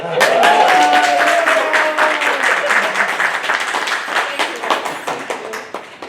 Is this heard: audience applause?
yes